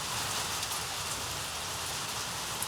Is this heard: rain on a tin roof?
yes